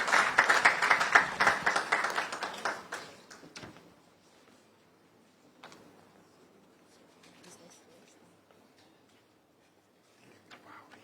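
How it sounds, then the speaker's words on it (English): Audience at a national school quiz championship launch gives a round of applause, loud at first and fading within about three seconds, followed by quiet room noise and sparse knocks. "Please give him a round of applause."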